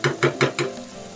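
Large shrimp, halved lengthwise, hit a hot pan with four quick bursts of sizzle and stirring, each loud and close, then the frying settles into a softer steady hiss.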